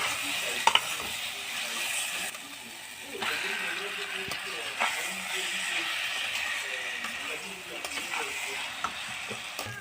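Loitta fish frying in oil with green chili paste, a steady soft sizzle with occasional stirring scrapes and clinks, close and moderately quiet throughout.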